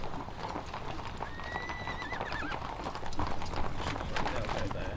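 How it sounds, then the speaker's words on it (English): Horse artillery galloping in a Napoleonic wargame, steady clip-clop of hooves with a couple of horse whinnies rising over it, continuous and fairly loud under someone talking. "Horse artillery can go there."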